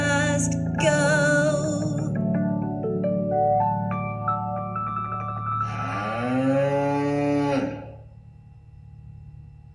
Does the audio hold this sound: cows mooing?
yes